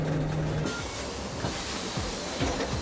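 An Almaty metro train runs past with a steady, close rumble and airy hiss, marked by a few rhythmic clacks of wheels over rail joints; no voices.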